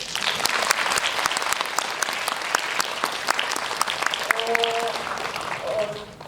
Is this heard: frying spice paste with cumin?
no